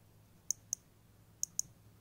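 Samsung Galaxy Watch Active 2 system sounds: four faint, sharp, high ticks in two pairs, isolated against a quiet background.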